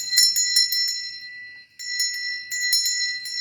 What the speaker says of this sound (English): It's the fireplace bell.